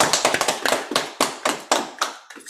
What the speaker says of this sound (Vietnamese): Xin vỗ tay đi chư vị.